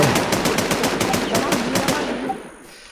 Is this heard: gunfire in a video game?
yes